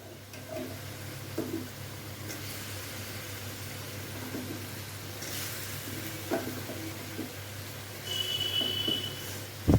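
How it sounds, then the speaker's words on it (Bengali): Spices sauté with fried potatoes in a pan for a rohu fish roe and potato curry, a soft, steady sizzle with occasional stirring scrapes and a brief clink near the end, faint and without voices. "এখন এই সব সবগুলোকে খুব সুন্দর করে আলুর সাথে একটুখানি কষা কষা করে নেব"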